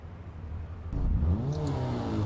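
A car engine in the Garry's Mod game idles, then surges into a sudden rev partway through, the rising engine tone holding loud and near to the end.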